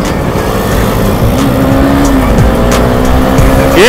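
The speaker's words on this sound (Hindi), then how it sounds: "फुल पावर व्हीलीज हो रही है।" KTM RC390 and Duke 200 motorcycles revving hard at full power during wheelies before a crowd, a loud continuous engine roar with rising and falling pitch, close and dominating throughout.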